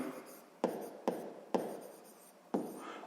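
A pen writes a math exercise on paper, giving a series of sharp scratchy strokes, roughly five distinct marks with soft rubbing between them, close and quiet with no talk.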